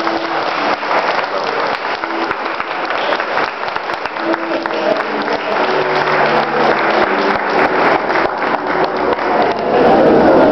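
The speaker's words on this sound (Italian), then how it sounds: "Applauso!" Wedding guests applaud inside the Beata Vergine Maria church in Arpaise, producing loud, dense clapping that fills the whole stretch and swells toward the end, with a faint tonal background underneath.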